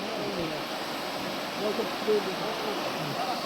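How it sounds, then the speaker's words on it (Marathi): Water flowing steadily in a river at night, a continuous close rushing wash with a few faint higher chirps over it, and no voices. "या अशा वाहत्या नदीमध्ये आम्ही"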